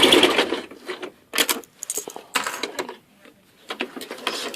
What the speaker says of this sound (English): And you will sew right across that.